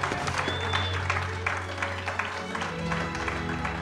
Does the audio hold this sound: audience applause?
yes